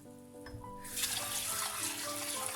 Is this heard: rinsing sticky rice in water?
yes